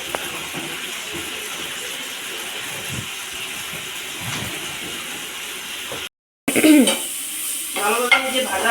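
Garlic fries in a pan together with eggplant, giving off a steady, close sizzle with occasional stirring clatter. A short silent gap comes before louder frying and scraping.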